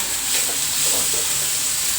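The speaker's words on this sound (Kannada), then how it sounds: "ಜೊತೆಗೆ ಈರುಳ್ಳಿ ಹಾಕ್ತೀನಿ ಈರುಳ್ಳಿ ಕ್ವಾಂಟಿಟಿ ಸ್ವಲ್ಪ ಜಾಸ್ತಿ ತಗೊಂಡಿದ್ದೀನಿ ನೋಡಿ ಇದು ಚೆನ್ನಾಗಿ ಫ್ರೈ ಮಾಡ್ಕೋಬೇಕು" Onions sizzling and frying in a pan for a mung bean stir-fry, a steady loud hiss that runs unbroken throughout.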